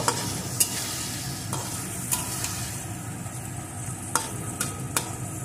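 Marinated hilsa fish pieces sizzle steadily in a pan of hot oil while a utensil turns them, giving occasional sharp scrapes and taps over the continuous frying hiss; no voices.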